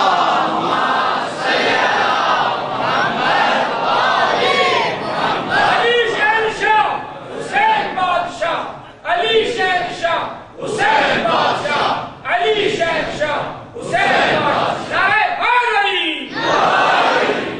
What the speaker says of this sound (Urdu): ایک صلوات پڑھیے محمد والے محمد